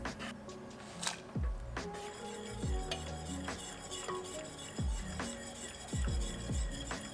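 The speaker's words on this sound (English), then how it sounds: "I will add the chopped ruby chocolate and continue to whisk until it is all incorporated" A whisk works through simmering hot cocoa with chopped ruby chocolate melting in, giving soft wet squishes and light metallic clinks against the pot, steady and close with no talk.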